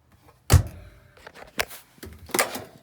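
A door inside a 2017 Thor Chateau RV is handled, giving a sharp knock followed by a few lighter thuds and clicks, close and fairly quiet, with no talking.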